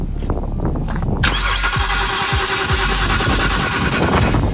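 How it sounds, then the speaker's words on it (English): A BMW E91 325xi wagon that sat unused for three years cranks over, its starter churning loudly and steadily at close range for several seconds without catching, no voices over it. "you wanna try and crank it just to see?"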